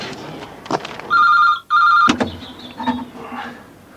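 Telephone in a phone box ringing in two loud electronic bursts close by, with clunks and handling noises around them.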